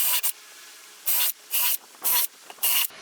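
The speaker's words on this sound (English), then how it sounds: "Drill some pilot holes." Pilot holes drilled into a wooden workbench, heard as five short, close bursts of harsh drilling noise with brief pauses between them and no talking.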